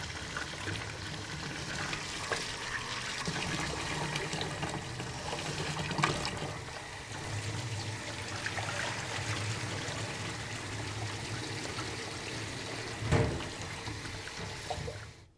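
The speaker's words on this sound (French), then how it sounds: "On nettoie le riz comme ceci. Il faut le faire 5 ou 6 fois." Running tap water pours steadily over sushi rice being rinsed, a continuous splashing trickle with small clatters of grains and a bowl, close and moderately loud with no talking.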